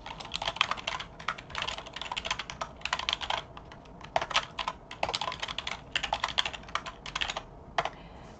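Close, brisk typing on a computer keyboard while entering Excel cells, with Alt+Enter keystrokes among the clicks. The keys fall in dense bursts separated by short pauses, and nobody speaks.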